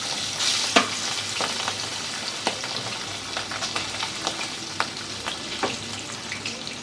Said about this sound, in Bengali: 3 পিস মাছ ভাজছি